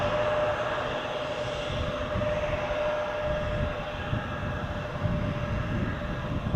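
A Boeing Dreamliner airliner at Manchester Airport, a steady distant jet engine roar with a faint whine, fairly quiet and continuous throughout.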